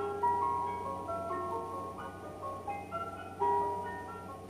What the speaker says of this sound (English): In space, no one can hear the ice cream truck.